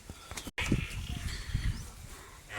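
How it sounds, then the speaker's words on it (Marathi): Goats on a farm give a few faint, short bleats amid close rustling and shuffling movement, with a brief dropout partway through. "तर त्या तिथे शेळ्या आहेत आपल्या."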